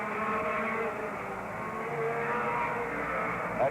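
Stock cars roar around a short track at the 1981 national short-track championship 200. A dense, continuous engine drone builds and shifts as the cars pass through heavy traffic.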